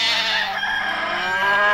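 Chicken in an animated children's show calling out in a sustained, harmonic clucking cry, close and fairly loud, with no talk over it.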